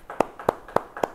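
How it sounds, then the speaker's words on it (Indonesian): Four even handclaps from a church congregation, spaced about a third of a second apart, sharp and fairly close with a faint room tail and no talking. "Yang percaya beri tepuk tangan bagi Tuhan."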